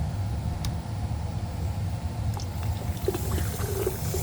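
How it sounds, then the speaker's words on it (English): Water drains from a hot water tank through a clear plastic tube, making a continuous low gurgling rush with faint trickles and small splashes that hold steady throughout. "I'm going to go ahead and insert this in, and I'm going to let out the water."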